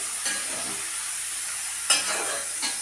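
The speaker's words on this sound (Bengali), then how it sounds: "একটু সামান্য চিংড়ি মাছ দিলাম" Shrimp frying in a pan and being stirred, a steady soft sizzle broken by a few sharp scraping stirs, close and alone with no talk.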